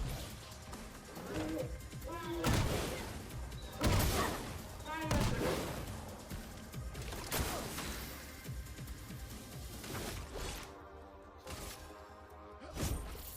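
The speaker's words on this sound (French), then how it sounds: "il tire avec son canon" Repeated heavy booming blasts of cannon fire in the video game Clair Obscur: Expedition 33 punctuate a dense, busy soundscape, with several loud impacts spaced a second or two apart.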